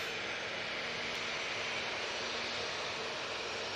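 An airliner taking off at Manchester Airport, its engines a steady broad roar at some distance, continuous and unbroken for the whole stretch, with no talk.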